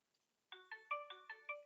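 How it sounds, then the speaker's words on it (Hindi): A phone ringtone plays in a short melodic pattern of repeated bright tones, beginning abruptly after near silence and repeating about six times at a steady pace, faint and alone with no talk. "किसका फोन है यार?"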